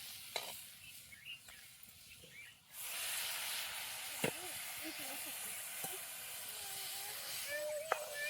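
Water hits a hot pan of fresh cowpea masala cooked with home-ground spice, bursting into a sudden loud, steady hiss after a quieter stretch of faint stirring and clinks, with small utensil knocks continuing through the sizzle.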